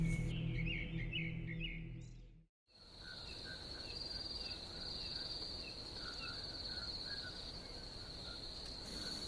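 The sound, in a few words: crickets chirping at night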